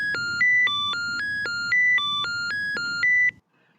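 Intercom call tones from an ELTIS DP5000 door entry panel in Garry's Mod: a loud repeating electronic beep melody of alternating pitched tones, several cycles over a low background hum, ending abruptly.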